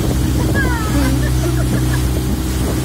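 An engine drones steadily on a rented motorboat out on the sea, with rushing wind and water noise around it. Voices call out briefly over the constant loud roar.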